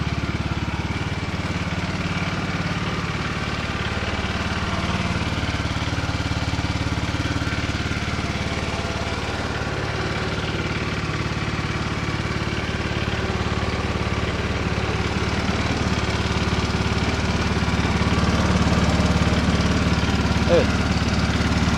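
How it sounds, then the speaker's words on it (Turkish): A motorcycle engine with a freshly cleaned air filter idles steadily nearby, a constant low rumbling putter that holds even throughout. "motosikleti yaptık, hallettik, çalıştırıyoruz. Çalışıyor."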